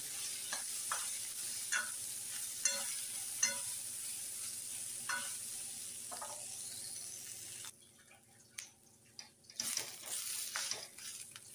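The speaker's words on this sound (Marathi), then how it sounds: "आता कांदा, शेंगदाणे, लसूण चांगलं भाजलंय" Onion, peanuts and garlic dry-roasting in a pan, soft sizzling broken by the intermittent scrape and clink of stirring, which quiets briefly before resuming.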